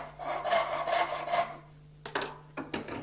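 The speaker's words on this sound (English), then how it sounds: "Start on a backstroke, cut down on the marking gauge line." A hand saw cutting down into a wooden board for a dovetail joint: three rasping strokes, one long steady pass then two short ones, close and fairly quiet with no talking.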